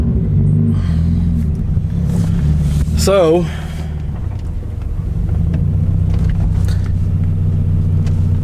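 Subaru BRZ with an aftermarket catback exhaust on a cold start, a loud steady engine rumble that carries throughout, with a brief rising rev near the middle, as a voice talks over it.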